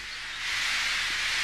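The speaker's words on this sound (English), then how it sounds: "Henry still stayed in the tunnel and blew steam at him" A steam engine hisses in a tunnel, a loud broadband rush of steam that swells after a quiet start and holds steady, with no voices.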